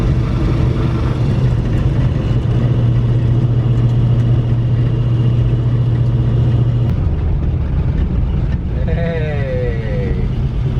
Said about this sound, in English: We stayed idling happily, and now I'm pulling away with it actually having good response.